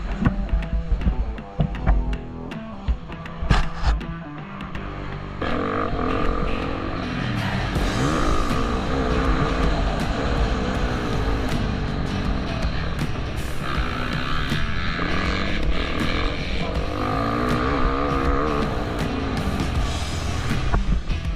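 A 450cc motocross bike engine revs and drones continuously during a race, rising and falling in pitch as it accelerates, loud and close throughout.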